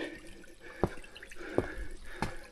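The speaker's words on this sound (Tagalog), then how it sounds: "May mga hindi pa nag-ayos dito ng hose nila siguro. Lakas yung tagas oh." Quiet steady trickle of water leaking from a hose, with three distinct drips or splashes spaced out over a couple of seconds.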